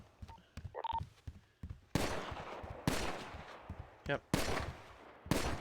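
Bursts of gunfire at a firing range in a video game, several loud sharp volleys spread across a few seconds, with brief speech in between.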